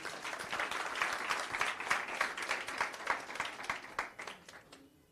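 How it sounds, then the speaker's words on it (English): Audience applause at a team-building and stakeholder engagement workshop and expo, a steady wash of many hands clapping that fills the room, fairly close and sustained, then thinning out toward the end. "I think we deserve a round of applause."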